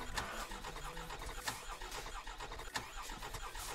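In Euro Truck Simulator 2, a truck engine cranks and turns over, giving a steady mid-range mechanical churn with a few sharper knocks spaced through it, fairly quiet and with no voices.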